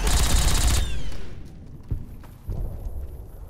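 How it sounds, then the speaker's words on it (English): Gunfire from a modded bat gun in Fallout New Vegas: a dense, loud burst of rapid shots at the start, then quieter scattered thumps and impacts. "Let me reload my bat gun."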